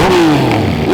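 Several motorcycles at a Woodsman Cup endurance race, engines whining and revving loudly and close by, with one pitch sliding downward as a bike passes.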